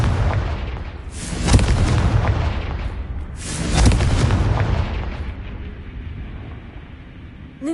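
Two loud, booming Confringo spell explosions in the Hogwarts Legacy video game, each a sharp blast that rumbles and fades, about two seconds apart, with no talking over them.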